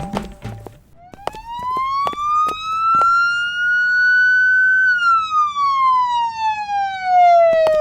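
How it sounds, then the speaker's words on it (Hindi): A single loud electronic siren tone rises slowly, holds, then falls away, with a few sharp clicks scattered over it. "ये सायरन की आवाज कहाँ से आ रही है?"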